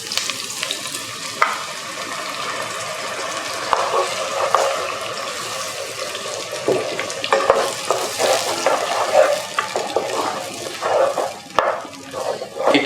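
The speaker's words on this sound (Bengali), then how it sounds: "এটা একটু ফ্রাই হতে হবে।" Tomato and curry sauce fries in a pan for jollof rice, a steady close sizzle broken by scraping stirs and the clink of a utensil against the pan.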